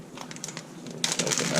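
A plastic bag for marinating pork is opened in a kitchen, with light crinkling at first, then a louder burst of rustling and crackling plastic near the end.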